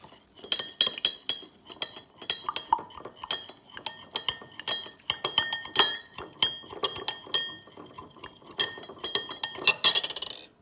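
A spoon clinks and taps repeatedly against a glass container as it stirs a mixture of household products with red cabbage, giving close, irregular metallic chinks with short pauses between them.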